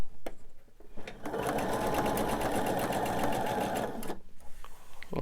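A sewing machine stitches quilt seams in a quilting session, a fast, even mechanical whir for about three seconds, framed by quieter handling clicks and fabric sounds before and after.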